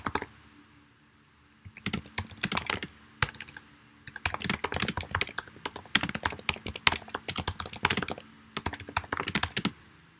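Typing on a computer keyboard comes in quick bursts of close, crisp key clicks, separated by short pauses of silence.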